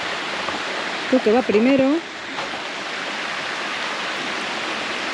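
A steady, broad rush from a river current above a 50-metre waterfall runs through the whole scene, loud and close, with someone speaking briefly over it.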